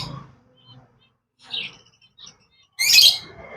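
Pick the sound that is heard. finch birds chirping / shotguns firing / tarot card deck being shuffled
finch birds chirping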